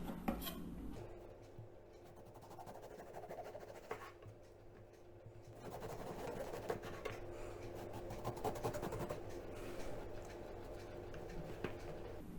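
A knife slicing an eggplant lengthwise on a cutting board, with soft crisp cutting strokes and light knocks against the board, followed by a quieter pause and then a longer stretch of steady slicing.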